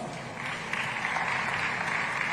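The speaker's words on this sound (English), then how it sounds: "let's give them a round of applause" Audience applause after a round of thanks to dignitaries at an African food systems summit panel, a steady sustained clapping crowd of moderate loudness with no talk over it.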